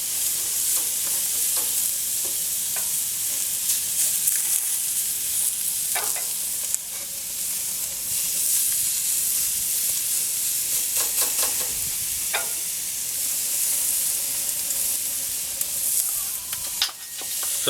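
Greek-style barbecue meat sizzles steadily on a grill as it is basted with sauce, a continuous close hiss and crackle with intermittent sharper spits and pops throughout.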